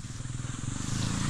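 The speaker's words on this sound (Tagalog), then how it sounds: "Oh, may motor mga idol." A motorcycle passes nearby along a creekside spot, its droning engine growing steadily louder through the moment, with no talking.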